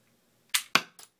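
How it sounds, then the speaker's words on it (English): A toy Lego gun fires three sharp snapping shots in quick succession, the third a little softer, each a crisp broadband crack with a short tail, heard alone after a moment of silence. "But this one, I'll shoot right over the camera."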